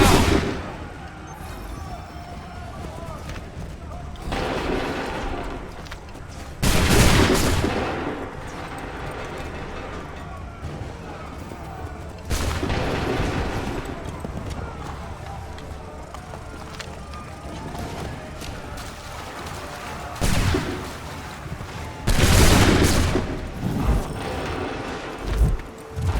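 Musket volleys in Assassin's Creed 3 Remastered, loud broadband bursts of massed gunfire recurring every few seconds over a continuous battlefield din.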